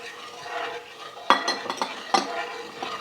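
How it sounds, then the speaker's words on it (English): Cornstarch slurry stirred into gravy in a hot pan, with a utensil scraping and clinking against the metal in several close strokes over a faint background hiss. "Adding my slurry. Okay, I'm gonna stir that in"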